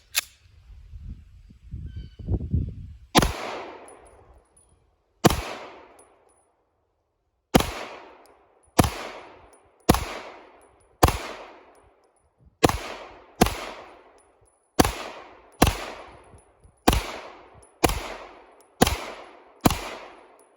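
Pistol shots at an outdoor family shooting range: after some low handling noise, about fourteen loud, sharp cracks ring out close by with short decaying echoes, spaced roughly a second or two apart, with no talking.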